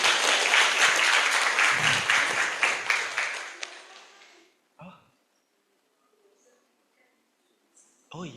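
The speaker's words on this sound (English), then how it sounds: "Applause, guys, applause." Brief applause from an audience at an international guest lecture, loud at first then thinning and dying out within a few seconds, followed by near silence with faint murmurs and a voice at the end.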